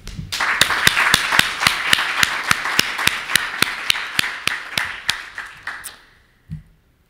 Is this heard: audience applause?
yes